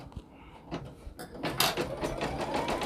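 An embroidery machine stitches the placement line for an outer applique on a T-shirt, a close run of rapid mechanical needle taps that speeds into a steady rhythmic chatter.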